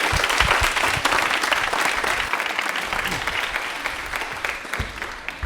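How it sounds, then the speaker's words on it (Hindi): Applause from the studio audience of a Rajasthani quiz show about Indian Railways: dense, steady clapping that keeps going, with a few louder individual claps. "तालियां एक बार जोरदार हो जाए खुशी के लिए।"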